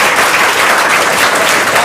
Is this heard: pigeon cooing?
no